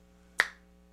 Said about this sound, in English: Sorry for snapping my fingers.